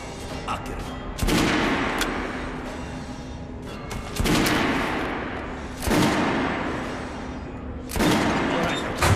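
Gunfire at a shooting range in Metro Last Light: four loud, separate shots spaced a second or two apart, each with a sharp crack and a ringing decay, over low background noise.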